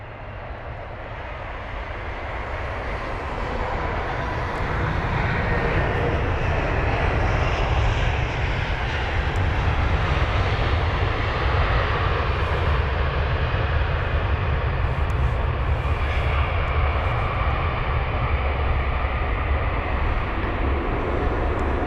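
An Airbus A320, twenty years old, arrives at London Heathrow, its engine roar swelling over the first few seconds into a loud, sustained rumble and whine that holds steady to the end.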